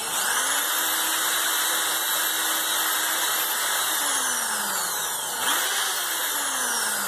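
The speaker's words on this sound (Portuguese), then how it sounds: "vou fixar o parafusinho, então vou furar ele aqui" A power drill whines continuously at close range, drilling a screw hole in bamboo for a photo tripod, its pitch shifting slightly as it bites in, loud and steady throughout.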